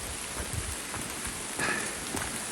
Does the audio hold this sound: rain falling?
yes